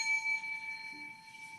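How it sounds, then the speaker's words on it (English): A single bell is struck to start a round in a gaming contest, leaving a clear sustained ring that slowly fades, with no talk over it. "I'm going to ring the bell."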